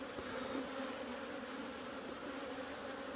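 Honey bees guard a hive entrance, a steady close buzzing hum of many insects droning continuously without a break.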